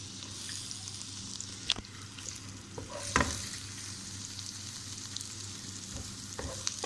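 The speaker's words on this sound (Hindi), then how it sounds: "यहाँ पे कढ़ाई में हमने प्याज हमने डाल दी, इसको हम फ्राई करेंगे।" Onions frying in a kadhai for an Iranian-style meat dish give a steady close sizzle with occasional stirring scrapes and clicks, and no voices.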